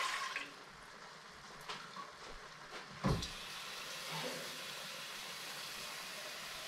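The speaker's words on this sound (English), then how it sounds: "So here we go, I'm gonna start putting in water." Water pours steadily into a cooking pot for soup, a soft continuous hissing rush with a few light clunks, heard alone at low level.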